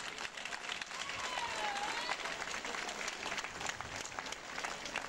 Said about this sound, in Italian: fare un grossissimo applauso a quanti ancora stanno lavorando per noi